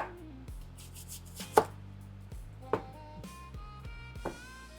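A knife chopping a yellow onion into small pieces on a board: a few sharp, separate knocks spaced about a second apart, close and clear, with quiet handling sounds between them.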